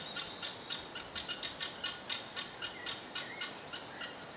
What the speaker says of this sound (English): that's the sound of guinea fowl